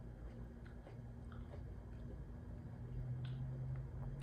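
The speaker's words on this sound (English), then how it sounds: "Sorry, I'm over here talking while I'm chewing." A person chewing salad close to the mic, with soft wet bites and crunches scattered over a few seconds above a low background hum, quiet and intimate.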